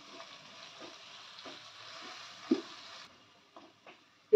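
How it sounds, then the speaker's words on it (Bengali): Mango rice with turmeric and salt being mixed in a pan, with a faint sizzle and a few soft scrapes and knocks of a spoon against the pan, close and quiet. "ভালো করে মিক্স করে নেব।"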